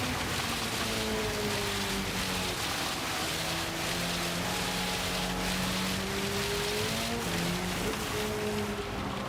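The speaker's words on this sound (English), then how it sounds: "I've never had rain this deep before." Unusually heavy rain in a racing sim during a night race pours down as a dense, unbroken hiss, with a low car engine droning steadily underneath and no talk.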